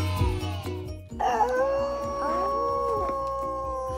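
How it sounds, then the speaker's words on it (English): A wolf howl plays from a Terra Jungle World toy playset, a drawn-out electronic howl that rises and wavers over a few seconds, close and clear, with a brief child-like voice moment at the start. "Wolf."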